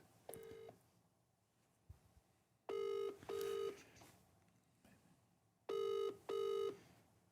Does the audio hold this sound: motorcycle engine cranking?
no